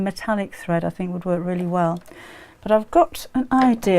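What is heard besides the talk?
No everyday noises stand out.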